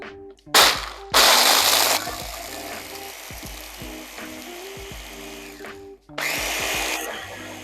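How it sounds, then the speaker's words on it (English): A countertop blender whirs in loud bursts while blending piña colada ingredients with thick cream of coconut, the motor cutting on and off with clattering, grinding pauses between pulses. "once you have your ingredients in your blender, you can go ahead and blend for about 5 to 10 seconds"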